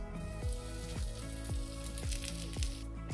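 Bread coated in batter frying in hot oil gives a steady close sizzle and bubbling that continues throughout, with faint soft knocks repeating about every half second.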